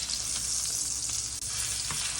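A thick steak fries in a pan with a loud, steady, close sizzle that holds without a break, and no one speaks.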